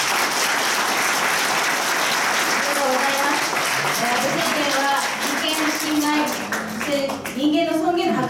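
An audience applauds at a political protest rally in Japan, a dense, sustained clapping that swells throughout, with a voice speaking over it toward the end.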